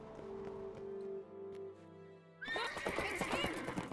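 A horse whinnies loudly in The Witcher 3 video game, a long neigh followed by a burst of busy, clattering game action with hoofbeat-like clops.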